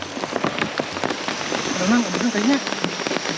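Rain falling outdoors with scattered drops pattering on a surface, steady and close, while voices talk briefly over it.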